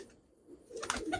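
A Teddy pigeon coos near the end in a short, soft, close call that comes after a near-silent start.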